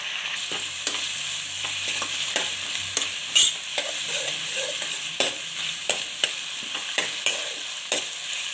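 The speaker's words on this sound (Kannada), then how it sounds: "ಚೆನ್ನಾಗಿ ಫ್ರೈ ಮಾಡ್ಕೊಳ್ಳೋಣ ಅದಕ್ಕೇ ಸ್ವಲ್ಪ ಕರಿಬೇವು ಹಾಕ್ತಿದ್ದೀನಿ" Masala with curry leaves fries in a pan for North Karnataka style stuffed brinjal curry, a continuous close sizzle broken by regular sharp spoon scrapes against the pan.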